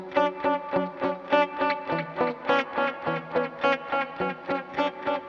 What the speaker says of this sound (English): we have a delay or echo effect that syncs up to the project tempo of 105 beats per minute